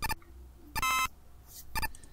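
A bird cry from the video game Rockman 4 Minus Infinity plays as three short, buzzy electronic chirps, the middle one longer, spaced about a second apart and sounding alone.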